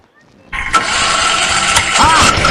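A tractor engine in a village turns over and bursts into a loud, steady running roar about half a second in, holding a rough, broadband drone to the end.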